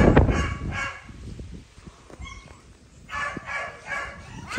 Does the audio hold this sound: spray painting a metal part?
no